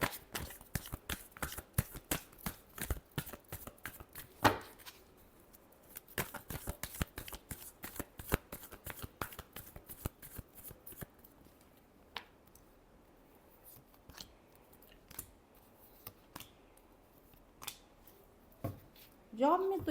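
Tarot cards are shuffled by hand in a long run of quick, crisp riffling flicks and slaps, close and fairly soft, with occasional quiet talk.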